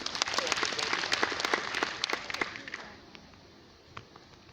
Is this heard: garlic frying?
no